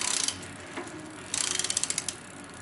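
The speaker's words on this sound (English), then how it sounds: "until you hear the torque wrench click" Torque wrench set to 360 inch-pounds clicking while tightening a sealed cartridge bicycle bottom bracket: a quick run of ratcheting ticks, a pause, then a longer rapid series of sharp clicks, close and fairly quiet, with no voices.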